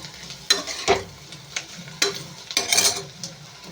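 Dried fish frying in a pan, with a steady crackling sizzle broken by sharp bursts of stirring and scraping at irregular moments, close and fairly loud, with no voices.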